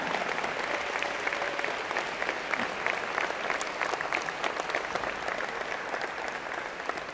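A convocation audience gives PhD engineering and computer science students a big, sustained round of applause, dense steady clapping filling a large hall at even loudness.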